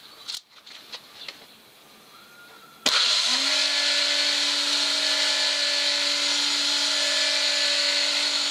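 A homemade backstand belt grinder with a tank-style frame starts up after a few light knocks, then runs as a loud, steady, high whine with a constant motor hum until the end.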